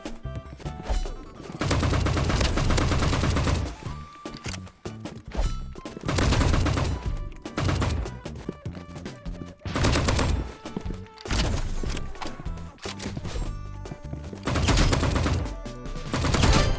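Rapid automatic bursts from a golden AK-47 skin in the shooter game Rivals, loud and close, firing in repeated volleys of several seconds with short pauses between them, alongside other gunfire in the match.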